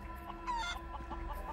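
Fighting birds at a cockfight in the Sleeping Dogs video game cluck in short, close, repeated bursts over a low background hum.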